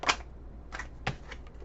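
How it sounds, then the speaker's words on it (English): Playing or tarot cards are shuffled in a few quick, soft riffling bursts, close and fairly quiet in an otherwise still room. "now I'm being told to start shuffling."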